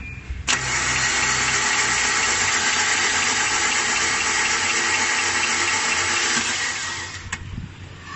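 A Perodua Myvi with a broken timing chain cranks and runs at a steady, loud, close mid-pitched drone for several seconds before cutting off, with no talk.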